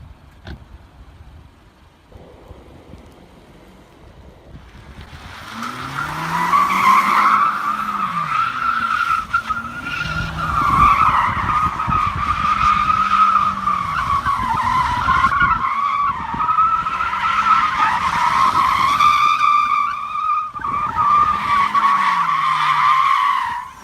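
A Mercedes G63 AMG drifts with tires skidding and squealing in a long loud wail that wavers in pitch, over a revving engine, close and continuous for most of the stretch after a quieter start.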